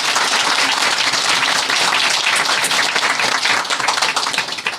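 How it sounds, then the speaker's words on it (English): A group of listeners claps for a storyteller after a Sufi tale, dense and lively applause filling the room from start to finish, close and loud, tapering slightly at the end. "Applaud to the storyteller at least, huh?"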